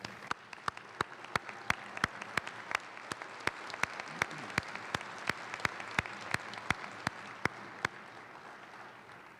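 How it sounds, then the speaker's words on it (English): An audience at the Alaska Federation of Natives convention applauds Territorial Guard and military veterans: sustained hall applause under a run of sharp, evenly spaced loud claps that continue for most of the stretch before the sound fades. "Let's give them all a round of applause."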